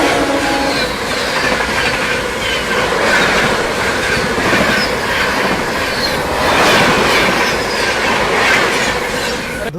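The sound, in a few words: Howrah New Delhi Rajdhani Express train passing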